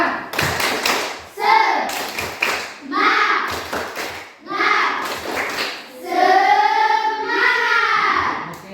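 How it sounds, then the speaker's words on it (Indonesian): A group of people in a classroom session claps in energetic bursts of rhythmic slaps, mixed with loud chanting voices and calls between the rounds of clapping. "Tepuk tangan yang keras untuk kita semua dulu."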